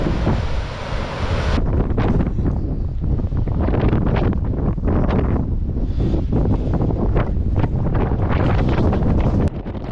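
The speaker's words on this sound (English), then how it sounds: "It is windy, very windy and hot" Strong wind buffets the microphone on an island, a loud, continuous roaring rush with gusting surges and possible surf beneath, no voices heard.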